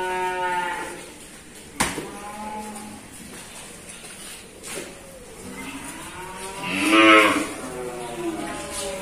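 Cattle low with moos at a livestock market selling calves and young stock, including Pegon and Limousin bulls; several drawn-out moos sound at moderate distance, the loudest near the end, over steady crowd background with no clear talk.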